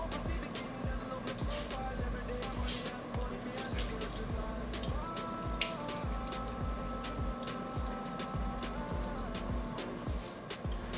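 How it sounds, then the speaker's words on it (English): Rinse water pours and splashes steadily as it drains off rice, with a faint rhythmic tapping underneath and a constant low hum. "Drain off that water."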